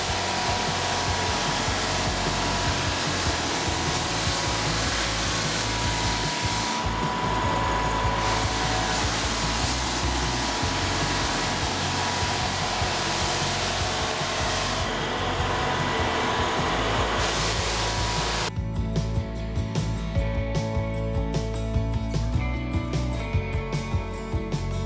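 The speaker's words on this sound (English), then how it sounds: "this bit of kit here is an essential if you are looking to sand and finish wood floors" A floor sanding machine working a wood floor: a loud, steady whirring roar that dips briefly twice, then gives way near the end to lighter clattering and a fainter hum.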